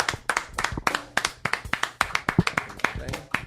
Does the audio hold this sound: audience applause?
yes